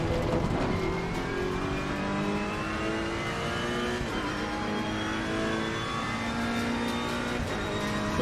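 A racing car in a racing video game, its engine droning and revving continuously at high pitch, with rising and falling gear tones over steady game noise.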